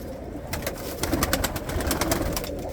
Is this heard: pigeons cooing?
yes